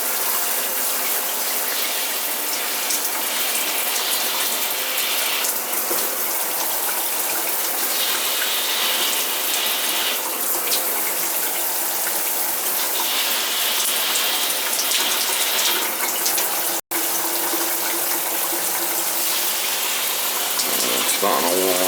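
Water running steadily from a Symmons shower valve, a continuous hiss of spray lasting throughout with slight shifts in flow and a brief dropout near the end.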